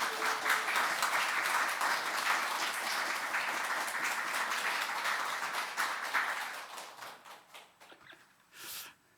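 Church congregation applauding a pastor at a Sunday worship service, a full steady wash of many clapping hands that thins out and fades toward the end.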